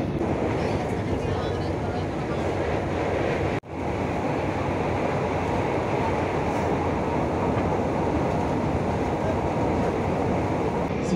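A KAI Commuter train rolls along the rails, a steady, loud rumbling roar filling the cabin, broken by one sharp dip partway through before the rolling noise resumes.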